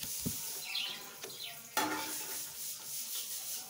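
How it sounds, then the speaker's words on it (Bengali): Fried potatoes lifted out of hot oil in a home kitchen, with a steady close sizzle, a few scraping stirs, and a brief clatter of the utensil partway through. "আলুটা ভাজা হয়ে গেছে তুলে নিচ্ছি"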